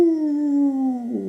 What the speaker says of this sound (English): the players over several days might hear wolf howls